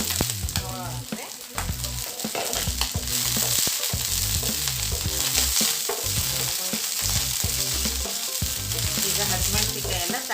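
A steady hot sizzle of tempering in a pan for gongura chutney fills the whole stretch, loud and close, with an uneven low rumble and clatter underneath.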